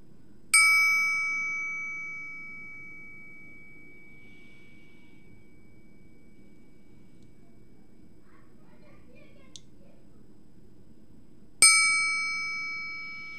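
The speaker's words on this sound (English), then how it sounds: "focus your attention on the sound of the triangle" Two clear triangle strikes, one at the start and one near the end, each ringing out bright and sustained over a low background hum.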